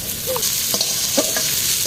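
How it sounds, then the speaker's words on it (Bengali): Peas, carrots and beans fry in a pan with garlic and onion, giving a steady sizzle, while a utensil scrapes and clinks as it stirs them a few times. "সবজিগুলো ভাজা হয়ে গেছে"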